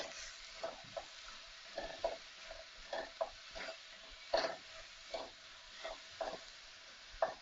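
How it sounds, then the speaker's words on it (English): Vegan spice bag mixture with crushed chilies and chili salt being stirred in a hot pan, a soft steady sizzle under repeated scraping strokes of a utensil, close and moderately quiet. "Mix all that together."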